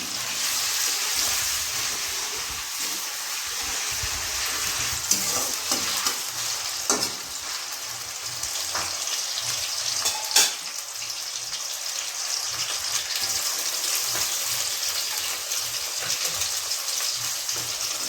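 Potatoes fry in a pan with a steady, close sizzle, and a spoon scrapes and stirs through them every few seconds.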